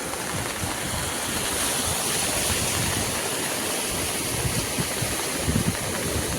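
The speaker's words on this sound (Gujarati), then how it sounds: "હવે આ 2 કલાક વરસાદ આવે એટલે પુલની ઉપર પાણી ચડી જાય." Floodwater rushing over a bridge after about 4-5 inches of heavy rain roars steadily and loudly throughout, a dense continuous torrent with no pauses and no voices.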